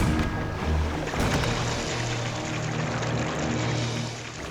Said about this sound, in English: Can you let the water out of it?